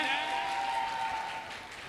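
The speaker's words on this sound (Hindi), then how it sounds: "ये जोरदार तालियां हैं" An audience at a dance competition during a Sawan fair applauds in a brief burst of clapping that fades out, with a faint tone and murmur behind it.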